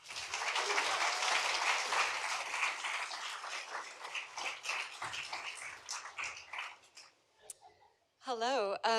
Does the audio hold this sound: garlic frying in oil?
no